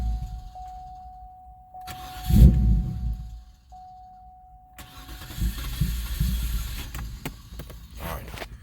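A Cadillac STS engine cranks over during a fuel filter replacement, in two separate bursts of starter whirring that are moderately loud and close by, with quieter pauses between them.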